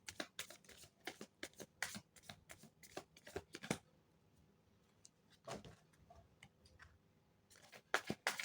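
Tarot cards are shuffled by hand in quick, crisp riffling bursts up close. The bursts fall in a brisk irregular rhythm with a few quiet pauses between them.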